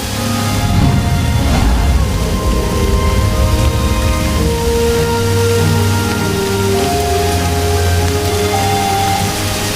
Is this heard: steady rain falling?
yes